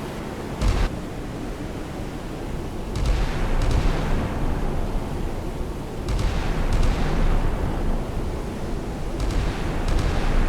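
Heavy naval gun salvos from warships in a video game, deep rumbling booms in broad bursts roughly every few seconds over a continuous low battle roar, with no voices.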